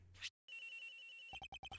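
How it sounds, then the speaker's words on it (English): A cell phone rings inside a locker in the video game Ace Attorney Investigations: a brief chime, a sustained electronic tone, then a rapid series of short repeated ring pulses, clear and close. "The ringing's coming from here, sir."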